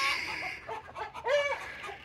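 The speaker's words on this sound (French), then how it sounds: "les poules, elles s'affolent là" Chickens in a coop next to a treehouse cluck and squawk in alarm, a busy, agitated flurry of overlapping calls that stays steady throughout at moderate distance, with no talking.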